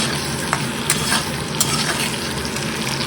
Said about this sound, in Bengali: আস্তে আস্তে এবার সব সবজি দিয়ে দিচ্ছি,